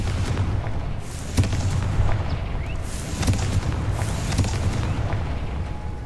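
The Confringo blasting spell in Hogwarts Legacy erupts as a deep booming explosion over a dense rumbling game background, with a few sharper blasts rising briefly above the steady low roar.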